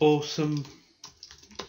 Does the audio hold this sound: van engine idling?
no